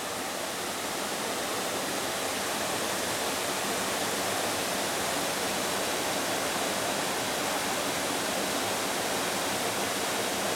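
Water rushing into rock and running underground inside Mangayam Cave, a steady, dense roar with no breaks, close and loud throughout, with no voices over it.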